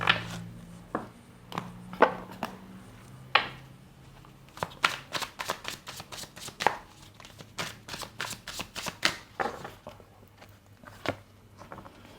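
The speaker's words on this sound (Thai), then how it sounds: "ขอเก็บไพ่สำรับนี้ก่อน" A deck of tarot cards being gathered up and handled, with rapid, crisp close card slaps and riffling taps in irregular bursts, louder and denser toward the middle.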